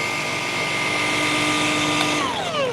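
A Halfords machine polisher with a polishing pad runs in a steady, close whine at constant speed, and the pitch drifts downward near the end, with no voices over it.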